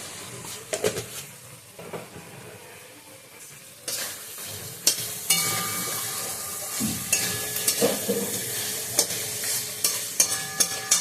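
Oily pointed gourd cooked in a pan is stirred as garam masala goes in, with a quiet start, then swelling sizzle and sharp scraping, clattering spoon strokes against the pan, close by and without speech.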